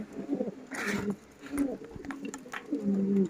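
Foreign pigeons coo in a loft, low throaty coos repeating through the stretch, fairly close but soft, with a voice and other murmurs in the background.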